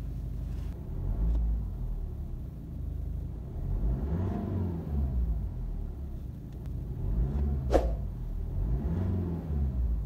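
The BMW N47 diesel in a 118d 1 Series F20 idles just after startup and is revved several times, each rev swelling into a rising and falling rumble at close range.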